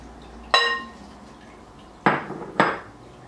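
Raw potatoes dropped into a cooking pan beside greens while making bethu saag pickle, giving three short clattering thuds against the metal, the first with a ringing clank, then two close together.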